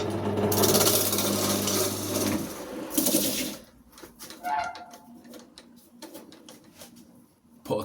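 A wood lathe spins as a tool cuts a tenon on a turned wooden Christmas tree, giving a loud scraping, humming cut that stops partway, followed by quieter scattered handling sounds and brief scrapes.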